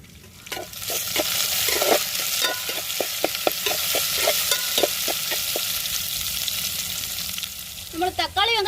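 Onions sautéing with tomato and curry leaves in a pan, a loud steady sizzle broken by a rapid series of spoon scrapes and taps against the metal, close by.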